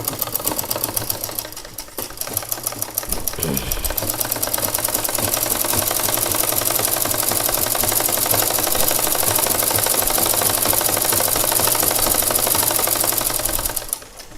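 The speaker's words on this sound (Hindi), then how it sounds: "ये दोनों को एक साथ जोड़कर ये सिलाई कर रहे हैं" Sewing machine stitching two petticoat fabric panels together, running in a steady, fast, continuous mechanical rattle for most of the clip with a brief pause near the start, loud and close, with no talk.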